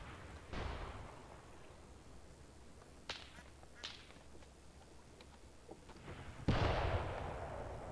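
Several sharp, distant tank cannon shots ring out from a WW2 tank ambush in Graviteam Tactics, with a couple of faint cracks early on and a louder, heavier boom near the end over low battlefield rumble.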